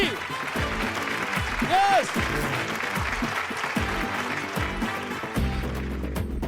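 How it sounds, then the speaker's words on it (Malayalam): A burst of clapping from several people on a TV game show set, a little uneven, with a voice speaking over it. "കയ്യടി."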